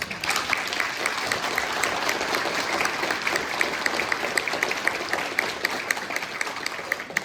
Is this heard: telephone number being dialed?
no